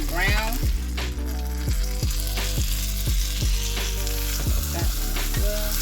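Strawberry cheesecake stuffed French toast fries in butter in a pan, giving a steady sizzle that sits under loud background music.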